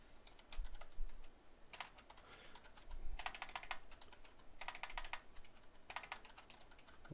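Typing on a computer keyboard, bursts of quick close key clicks separated by short pauses, with no voices.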